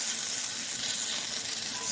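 Salmon cakes fry in hot oil in a cast iron skillet on an electric stove set to medium heat. A constant, loud, bright sizzle runs without a break, and no one speaks.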